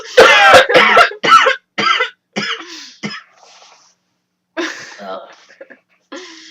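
A person coughs repeatedly in a rapid burst of harsh, close coughs, then pauses and coughs a few more times.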